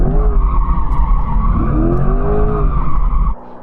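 A Corvette drifting, its tires squealing loudly in long rising and falling screeches over engine roar for about three seconds before cutting off abruptly.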